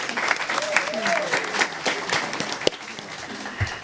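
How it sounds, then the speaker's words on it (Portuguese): A small group at a Brazilian state parliamentary meeting claps for a few seconds, the applause moderately loud and fading toward the end, with a voice briefly audible underneath. "Podemos aplaudir."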